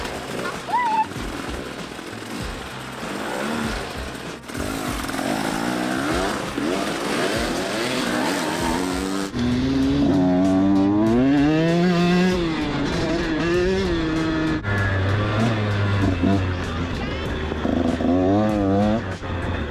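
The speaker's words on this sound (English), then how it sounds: "Nice and revvy." A 2021 Triumph Tiger 850 Sport motorcycle engine revs loudly and close, its pitch sweeping up and down in repeated rising and falling surges after a stretch of steadier running.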